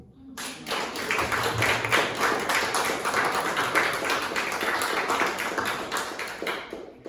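An audience at a League of Women Voters registration event claps after speeches, with dense, sustained applause that starts abruptly, holds steady for several seconds and tapers off at the end.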